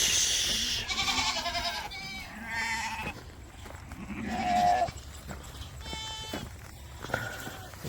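Several goats on a farm bleat in turn, a string of loud nasal calls of varying pitch, some long and wavering, close by with no talking.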